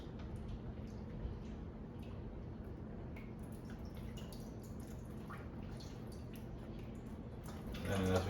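Water draining out of a CR Spotless water system during a resin change, a continuous low trickling and gurgling wash with scattered drips, steady and close, swelling slightly louder at the very end.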